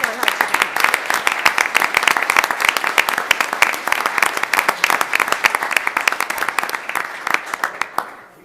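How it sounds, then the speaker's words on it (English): A crowd at an Elmhurst city meeting applauds the mayor with a dense, steady burst of clapping that holds for several seconds and then tapers off near the end. "So if we could all give him a round of applause."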